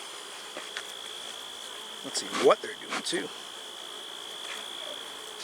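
Honey bees buzz at an open hive during an inspection with a smoker going. The buzz is faint and steady, and someone speaks briefly over it near the middle.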